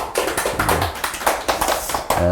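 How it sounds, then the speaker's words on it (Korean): A crowd of listeners claps in steady, dense applause at a motivational talk, a continuous patter of many hands that holds loud and close for the whole stretch, swelling slightly in waves. "그런 저에게 응원의 박수 보내주시겠습니까?"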